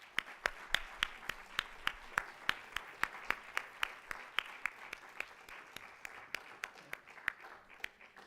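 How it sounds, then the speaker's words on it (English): Sparse, faint applause from a small audience at a Board of Education meeting honoring All-State musicians, a few distinct claps in an uneven rhythm, distant and quiet throughout. "Let's just give them another round of applause."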